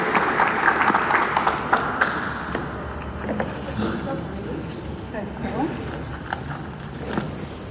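Audience at an awards ceremony in Athens' Zappeion Megaron applauds with steady, moderately loud clapping that fills the hall, a few sharper taps and knocks standing out over it.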